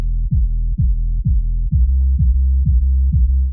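Only the low end of a kick and bass sidechained with the KHS Compactor plugin: deep rhythmic kick thumps with a rumbling sub-bass that dips under each hit. Steady and loud, with no higher content and no voices.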